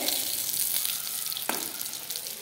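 Green chilies sizzling as they roast in a pan, a close, steady crackle and hiss with a brief scrape partway through as they are turned.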